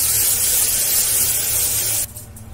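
Prepared spice paste for a sprouts curry hits a hot pot, giving a loud, close burst of sizzling hiss that drops sharply after about two seconds to a softer crackle.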